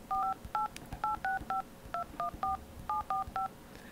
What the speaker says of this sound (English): Sounds like a phone number being dialed.